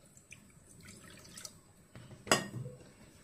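Water is poured into a cooking pot for a drumstick tomato curry, a short sharp splash and trickle after some faint dripping and clinks, quiet and close, with no talking.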